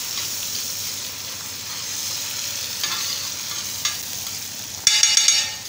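Chopped onion sizzles steadily in an oiled pan, then tomato drops in near the end, bringing a sudden louder burst of hissing and crackling.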